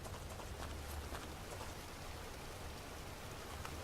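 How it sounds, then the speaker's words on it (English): In the survival video game Unturned, steady rain hisses as a continuous, even wash of falling drops at low level, with no one speaking over it. "I think it's raining"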